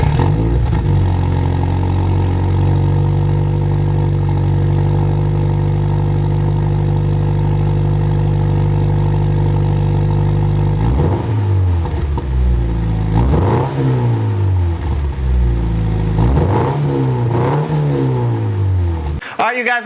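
A Subaru BRZ engine idles close by with a steady low hum, then is revved several times in quick rising and falling bursts.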